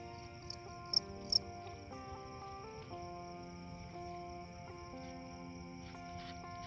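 Fighting crickets in dense, hard-to-reach undergrowth, a faint steady chirping drone with several overlapping tones, distant and continuous with a couple of brief clicks, no talking.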